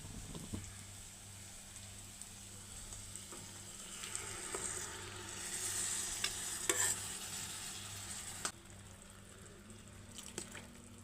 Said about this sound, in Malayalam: ഇനി നമുക്കതിൽ അരപ്പൊഴിച്ച് കൊടുക്കാം.